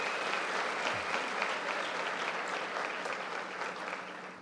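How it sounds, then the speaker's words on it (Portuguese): Sustained applause from an audience at a church talk, a dense steady wash of clapping throughout with no voices on top. "Dá um salve de palmas"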